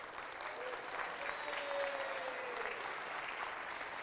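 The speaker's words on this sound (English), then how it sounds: "Let's give her a round of applause." Audience applause at a neighborhood council budget day meeting, as people clap for a woman who just became an American citizen: a steady, moderate wash of clapping from a seated crowd that carries on without a break for about four seconds.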